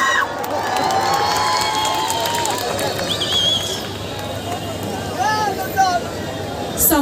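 Loud applause and cheering rise from a festival crowd at Kandhamal Mahotsav in Phulbani. The sustained roar carries scattered whistles and shouts, and a voice speaks over the noise.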